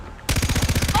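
Gunfire in the Far Cry 3 video game: after a quiet moment, a loud rapid burst of about a dozen evenly spaced automatic shots rattles close up.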